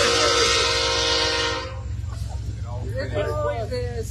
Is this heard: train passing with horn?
yes